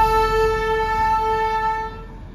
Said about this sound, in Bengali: আমাদের পরে ডিজেল ইঞ্জিনটা এসে আমাদের আগে চলে গেল।